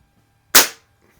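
A Sheridan Blue Streak CO2 air rifle, freshly rebuilt and running on a cold cartridge, fires a single sharp, loud crack that decays quickly into a short tail, with quiet background before and after.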